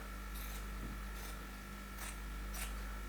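Scissors snipping the edges of a cotton tank top: four short, faint shearing cuts spaced about a second apart over a steady low hum.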